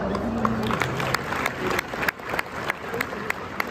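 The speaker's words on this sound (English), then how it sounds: "Nice applause, huh?" An audience claps at a live horsemanship demonstration at Americana 2023. The scattered, crisp claps repeat throughout, mixed with a presenter speaking.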